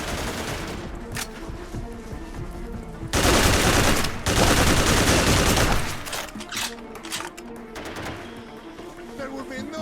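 Sustained automatic gunfire in the video game Haze: a loud rattling burst of about three seconds, followed by scattered shots, with someone talking before and after.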